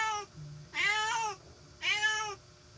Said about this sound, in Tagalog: Pasensya nyo na guys yung pusa.